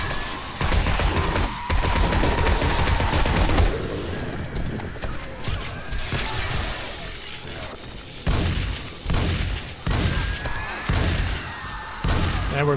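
Shotgun blasts in 7 Days to Die with the Darkness Falls mod, several loud bursts at the start, then sharp, irregular shots spaced a second or two apart over scattered game noise.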